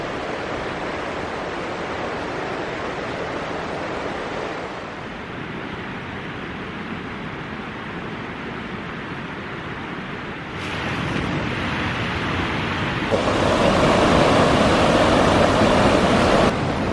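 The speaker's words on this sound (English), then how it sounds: "The Chattooga River is a wild and scenic river" The Chattooga River rushes steadily in a wild, scenic stretch along a backpacking trail, a loud, continuous roar of water that swells and brightens toward the end with no voices.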